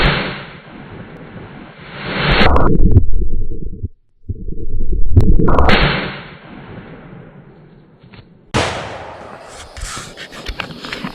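Two deafening rifle blasts from a new-production 1886 Winchester lever action firing 500 grain bullets, each a sharp crack with a long rumbling tail, the second followed a few seconds later by a lighter click or clatter.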